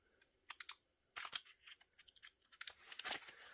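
A pliers-type hinged-jaw cutting tool with a sharp nose snips through paper, giving quiet, crisp clicks and rustling cuts in short irregular bursts, close up.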